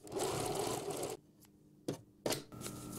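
A domestic sewing machine stitches around a fabric tote-bag pocket in a steady, rapid run of about a second. It stops, then two short bursts of stitching follow, close-up and fairly quiet.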